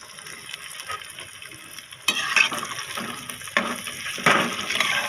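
Round gourd (tinda) pieces sizzle and fry in masala in a pan, a steady hiss broken by a few louder bursts as the pieces are stirred and shifted, close up with no talking.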